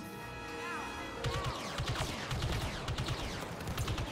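Blasters fire rapidly in the Star Wars Battlefront 2 video game on the Hoth map, a steady rattle of repeated bursts over a continuous background of game tones and effects.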